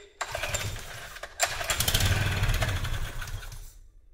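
A small Staub walk-behind tiller that had long sat unused, with its air filter cover removed and starting fluid added, is pulled into life, roars loudly and close for a few seconds, then cuts out abruptly.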